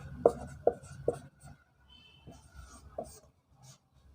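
Pen on paper makes a few quick scratchy strokes with brief taps and pauses as a maths solution is written out by hand at close range, fairly quiet.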